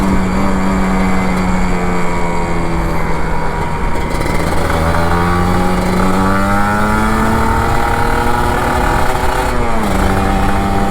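A Kawasaki Ninja RR 150 two-stroke motorcycle accelerates through Jakarta traffic at night, its engine loud and near, winding up through the gears with one pitch drop and climb near the end.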